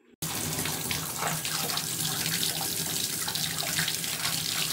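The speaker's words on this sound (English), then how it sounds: "let's just like run it through the sink" A bath bomb from a kit is held under a steady, strong stream of tap water in a sink, a continuous close rushing splash that starts abruptly and runs without a break.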